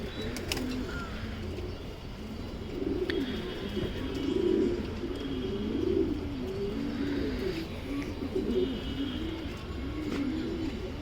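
Racing pigeons in a loft coo steadily and overlap throughout, with a few faint chirps and wing flutters in the background.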